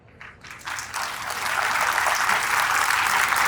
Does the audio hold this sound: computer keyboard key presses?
no